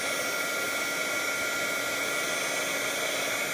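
A heat tool blowing hot air over ICE resin powder on metal gives a steady, loud, hissing rush with no breaks and no voices.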